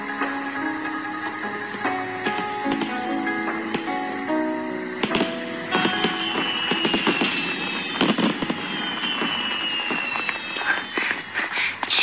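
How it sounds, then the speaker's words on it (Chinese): Fireworks crackle and pop in rapid bursts that grow denser over time, mixed with a steady musical backing throughout. "放烟花吧"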